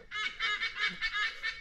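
Harsh, repeated squawking calls from sea eagles overhead in Arnhem Land, moderately distant, several cries in quick succession with no talking.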